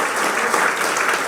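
Congregation clapping together during a church worship service in Batam, a steady dense wash of applause filling the room, loud and continuous with faint voices mixed in.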